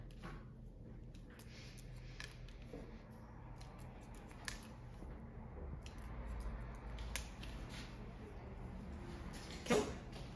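Scissors cut hair during a layered haircut, giving quiet, intermittent snips spread across a soft background, with one sharper snip near the end.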